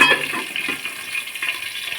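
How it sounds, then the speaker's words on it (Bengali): Potatoes fry in a pan for a Bengali-style vegetarian aloo dum, giving a steady soft sizzle with light crackling and a few small stirring clatters, close and moderately loud, with no talk. "আমি একটু চাপা দিয়ে দিয়ে ভাজবো তাহলে আলুটা সেদ্ধ হবে ভাজা হবে"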